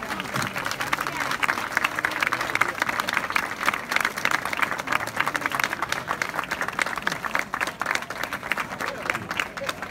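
Audience at a rice harvest festival contest in Catarroja claps in sustained, dense applause for the participants, steady and fairly distant across the whole stretch.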